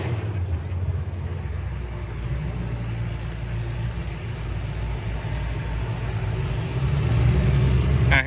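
A car engine runs continuously at a demolition derby, a steady rumbling drone that swells slightly louder toward the end, with crowd background.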